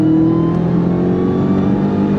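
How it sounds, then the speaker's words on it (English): Dodge Charger Outlaw Hellcat V8 under throttle, a loud, close engine roar holding a steady high rev with a gritty rumble throughout, no voices. "but the sound of the V8,"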